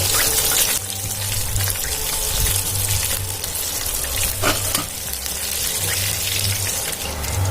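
Quail pieces fry restaurant-style in hot oil, KFC-style, with a loud, steady sizzle running throughout, broken by a few brief scraping and stirring noises.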